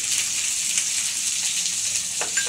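Onions hit hot oil with curry leaves and bay leaf for a dhaba-style dal fry, giving a steady, close, bright hiss of frying with faint stirring clicks near the end.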